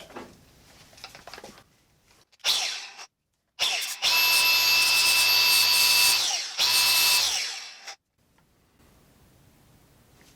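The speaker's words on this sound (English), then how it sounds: "I'm going to sharpen my pruners." A Milwaukee angle grinder fitted with a flap wheel sharpens pruner blades in bursts, whining loudly for several seconds at a time, then stopping, with quiet gaps between runs.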